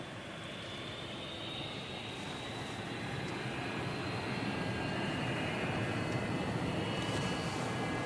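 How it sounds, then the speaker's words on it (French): A passenger airplane accelerates down the runway for takeoff, heard from inside the cabin as a loud, steady roar of engines and rumbling wheels that builds slightly over several seconds, with a faint high whine on top. "Ça y est, on décolle."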